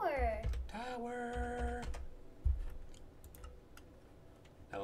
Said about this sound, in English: So we press T and then you type tower.